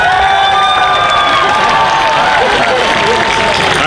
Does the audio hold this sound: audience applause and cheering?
yes